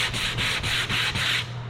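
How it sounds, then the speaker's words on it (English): Sandpaper rubs back and forth across a wooden cutting board in steady strokes, about five even passes with brief dips between them, close and loud with no talking. "if I keep sanding, I can get down through all these holes and make it perfectly smooth"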